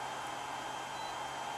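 A hair dryer runs steadily at moderate volume, a continuous broadband whoosh with a faint hum underneath and no voices.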